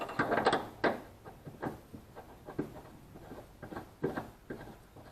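A cleaned bolt is threaded by hand into the rear subframe of a Toyota GT86, giving faint, irregular metallic scrapes and ticks, close up and fairly quiet, with no voices.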